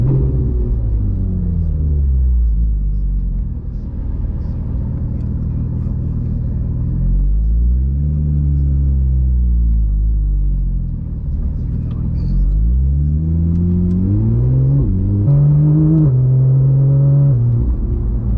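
A Porsche GT3 RS in PDK Sport with its exhaust valve open roars loud and close, its engine note climbing and falling through several revving pulls, with quick upshifts and a sharper rising wail near the end.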